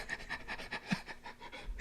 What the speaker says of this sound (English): Why are you panting so much?